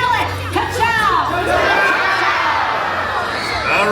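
A crowd of children shouts "Ka-chow" at a Lightning McQueen's Racing Academy show, a loud sustained chorus of young voices cheering together, close and filling the space.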